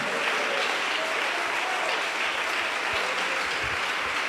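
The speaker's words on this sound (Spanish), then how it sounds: "Alguien que aplauda al Rey de Gloria esta mañana" Church congregation applauding during a sermon, a steady, dense wash of clapping from many hands that holds evenly for several seconds with no voices over it.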